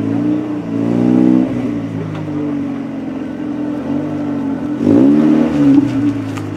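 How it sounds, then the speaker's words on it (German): A 1991 Opel Calibra with a 2-litre engine sits at the start line of the Weinbergrennen hillclimb race in 2011. Its engine idles loud and close, then revs up sharply twice with rising, throaty pitch. "Hier an die Startlinie ein Opel Calibra 2 Liter aus dem Jahre 1991."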